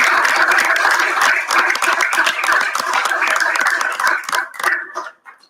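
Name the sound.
applause at a city council meeting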